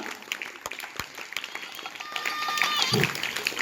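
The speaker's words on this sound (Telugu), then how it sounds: "విద్యార్థులు చప్పట్లు కొడుతూనే ఉండాలిరా" Students clap for a guest at a government school event, scattered sharp claps at first that thicken into quiet, sparse applause, with people talking faintly alongside.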